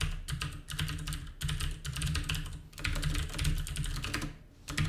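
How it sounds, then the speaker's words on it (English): A password is typed on a computer keyboard in quick, steady clicking keystrokes that run continuously for a few seconds with a couple of brief pauses. The keys are close and clear, with no talk. "I do need to type my password properly though."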